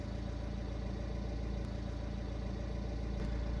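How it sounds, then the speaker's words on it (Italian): A car's diesel engine runs steadily close by with a constant low rumble, its idle speed held raised by a command from a Mucar 892BT OBD2 diagnostic tool, with no voices. "Questo comando aumenta il regime del minimo"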